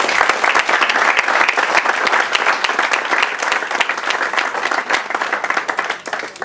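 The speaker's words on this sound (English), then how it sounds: "So I think a big round of applause." Guests applaud at a wedding evening reception, a dense, steady burst of clapping from a full room that fills the whole stretch and tapers slightly at the end.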